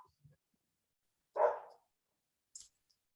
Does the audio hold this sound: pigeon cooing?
no